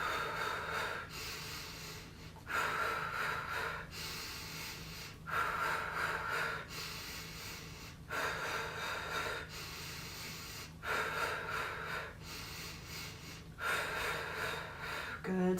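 Slow, deep breaths drawn in and let out during a chair yoga class, paced in steady counted cycles of roughly four beats each, with a soft instructor voice speaking over the airy breath sounds.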